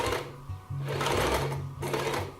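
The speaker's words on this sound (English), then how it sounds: "I'm gonna overlock that now." An overlocker stitches a fabric edge in quick bursts of rapid mechanical whirring, three runs separated by brief pauses, close and loud.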